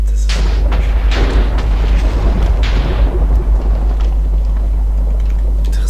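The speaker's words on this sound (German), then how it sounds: "Warum gewittert es, verstehe ich nicht." Thunder in the Minecraft video game: a loud, deep rumbling boom that starts suddenly, rolls on for a few seconds and then fades into a low background drone, heard alone without talk.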